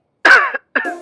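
Two short, loud, close coughs separated by a brief pause, with no other sound around them.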